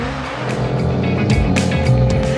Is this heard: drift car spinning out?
yes